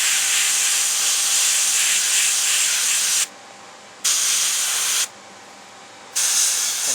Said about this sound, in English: we'll spray it from about here right on down